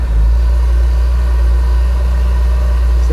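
A six-cylinder car engine idles smoothly and steadily, a loud, close, deep drone with an even, unbroken hum and no revving.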